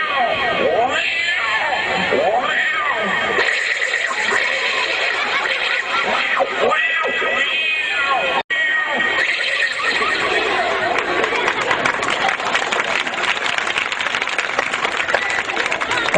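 A man imitates fighting cats with his voice, producing loud, wavering yowls and screeching growls in rapid bursts, with an audience cheering and clapping over much of it.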